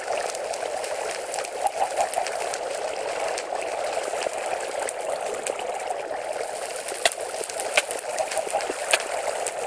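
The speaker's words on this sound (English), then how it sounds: "Need to go through the water." Movement through water in the Minecraft video game, a steady close splashing and trickling wash that runs the whole time with a few sharper ticks, no talk.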